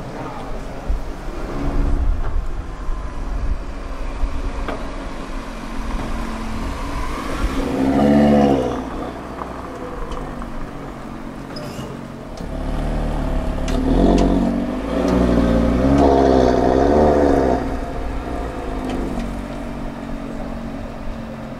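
Black Audi RS3 sedan driving out onto a piazza and parking, with a low engine rumble that swells in revving surges, mixed with outdoor background noise.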